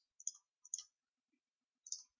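A computer mouse clicks during Photoshop editing: three sharp, quiet clicks, the first two close together and a third after a pause, in near silence.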